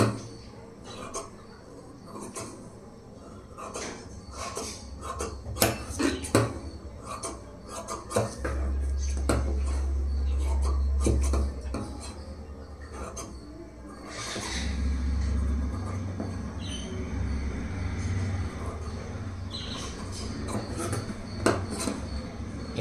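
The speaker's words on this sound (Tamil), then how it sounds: "இப்போ எக்ஸ்ட்ரா இருக்கிறதெல்லாம் கட் பண்ணி எடுத்துடலாம்." Scissors trimming extra cloth off a stitched blouse, with a steady run of sharp snips and clicks over a low rumbling background.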